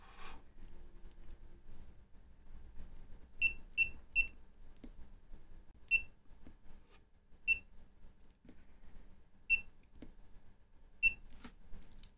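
A high electronic beep from the buzzer of a FNIRSI LC1020E LCR meter sounds repeatedly: a quick triple burst, then single beeps every second or two, over a quiet room hum.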